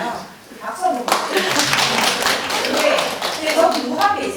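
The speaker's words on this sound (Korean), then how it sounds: "박수 한번" Audience in a citizens' meeting hall in Gumi breaks into clapping after a short quiet moment, steady applause that continues under voices talking.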